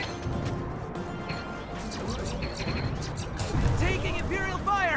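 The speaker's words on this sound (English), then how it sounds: "Taking Imperial fire!" Imperial weapon fire strikes a ship in Galak-Z with crashing impacts and swishing electronic effects amid continuous game noise, and a voice speaks over it.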